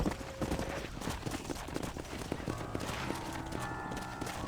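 A herd of horses clip-clops in Red Dead Redemption on a ranch, the hooves sounding as a steady patter of quiet, overlapping steps with game ambience underneath.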